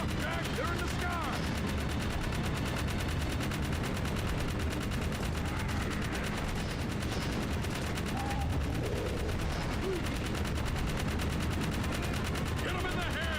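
Gunfire rattles through a video game, with rapid bursts and a continuous stream of shots over a dense, noisy battle mix, close and loud throughout.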